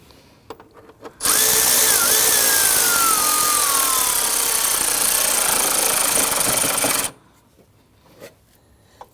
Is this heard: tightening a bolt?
yes